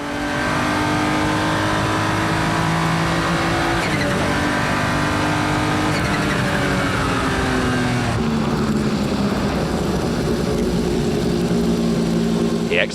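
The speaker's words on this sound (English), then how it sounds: "The car being driven here by the project engineer, Roland Kussmaul." A Porsche 911 GT1 sports race car, driven by project engineer Roland Kussmaul, roaring continuously at high revs with gear changes shifting its engine pitch, loud and close throughout the whole pass.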